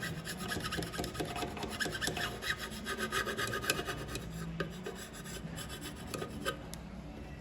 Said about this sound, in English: You can just use a flat tip screwdriver and scrape it along.